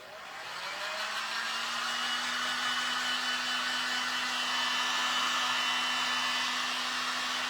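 A hair dryer blows close and loud to dry paint on a wine box, spinning up quickly to a steady whirring roar with a constant hum that holds throughout.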